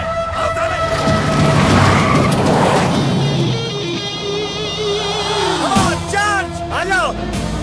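A car engine roars and its tires skid and squeal as it pulls away hard, followed by a sharp screech near the end, with voices shouting faintly in the background.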